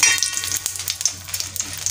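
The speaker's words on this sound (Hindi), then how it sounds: "इसमें अभी हम लोग बेड़ की मिर्च डालते हैं फ्राई करने के लिए" Dried red chillies fry in oil in a pan over a low gas flame, giving a steady, close sizzle with soft crackles throughout and no voices.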